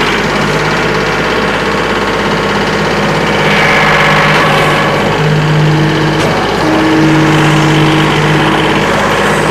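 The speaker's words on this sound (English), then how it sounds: "I'm going to go ahead and fire this tractor up" A 2023 Kubota L3902HST tractor engine cranks and catches, then settles into a steady, loud diesel idle with a knocking chug and slight rises in revs.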